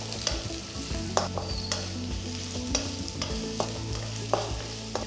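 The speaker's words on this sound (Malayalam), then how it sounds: "ഒരു ചെറിയ ക്യാരറ്റ് സ്ലൈസ് ചെയ്തത് ഇത് ഇട്ടൊന്ന് നന്നായിട്ട് വഴറ്റിയെടുക്കുക." Sliced carrots and beans sautéing in a pan while being cooked for egg noodles, a soft continuous sizzle broken by repeated spoon scrapes and stirring clinks at an uneven rhythm.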